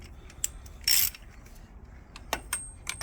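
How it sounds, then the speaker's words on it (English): A ratchet clicks in short bursts while tightening the oil filter housing on a VW Passat TDI, with light metallic ticks and a brief louder rattle, close and with no talking. "Pop your ratchet on it and just tighten it up."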